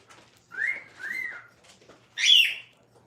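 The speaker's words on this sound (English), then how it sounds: "that was my bird yelling at my wife" A pet bird lets out three loud calls indoors, two whistling cries close together, then a sharper, higher shriek after a short pause, with no talking.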